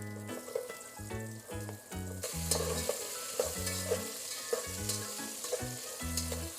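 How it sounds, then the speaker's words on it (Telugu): Sliced onions sizzle in hot oil in a pan for vegetable biryani, stirred with steady scraping strokes over a continuous close fry, with rhythmic music playing throughout. "ఉల్లిపాయలు బాగా మగ్గి కలర్ మారిన దాకా చూసుకుందాం, గోల్డెన్ కలర్ వచ్చిన దాకా వేపుకుందాం."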